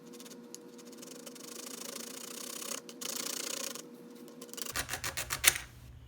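A plastic Tamiya Mini 4WD MS chassis is cut by hand, with a steady close scraping that ends in a quick run of sharp snaps and clicks as the piece breaks away.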